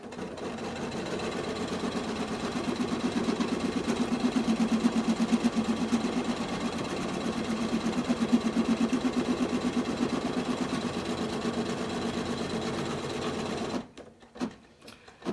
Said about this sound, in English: I'm going to lay down the vinyl and stitch